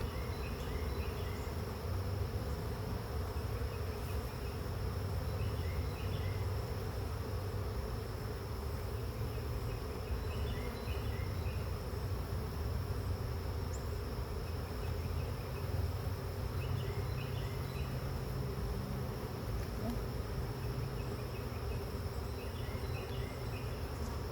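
Honey bees buzz in a steady, dense drone throughout a mid-June inspection of new hives, low and continuous with no talking.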